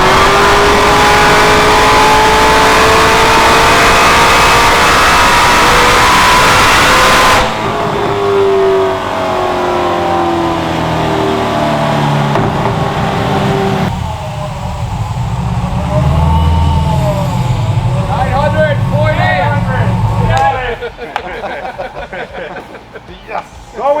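A 900 HP 1969 Camaro engine roars on a dyno, loud and close, with long sweeping revs through the exhaust that rise and fall. Brief voices come in near the end.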